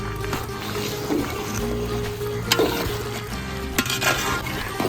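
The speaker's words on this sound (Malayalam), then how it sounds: "നല്ലോണം ഇളക്കി നല്ല പോലെ നമുക്ക് ഇളക്കണം കേട്ടോ" A duck curry being stirred in a pan, with soft scraping and sizzling that run steadily under faint background noise, plus a few louder clinks of the spoon against the pan.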